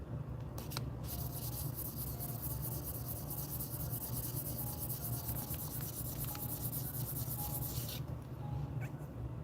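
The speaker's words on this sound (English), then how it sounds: "It's like automotive sandpaper, I think. That's why it's wet, right?" Wet sanding with fine automotive sandpaper under very light pressure, a steady close-up rubbing hiss that runs evenly throughout, carried over a constant low hum, with a few sharper scrapes along the way.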